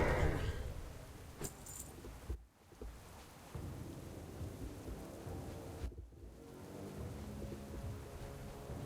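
A World of Warcraft thunderstorm fills the scene with steady rain hiss and low rolling thunder rumbles, with a couple of brief sharp crackles near the start.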